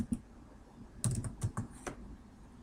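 Commands being typed on a computer keyboard: a short burst of close, clicky keystrokes clustered in the middle, with a lone tap at the start, moderately loud with no talking.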